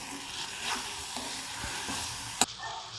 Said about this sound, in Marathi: आता यात आपण भाजून स्मॅश केलेलं भरीत घालून घेणार आहोत। चांगलं मिक्स करून घ्यायचं।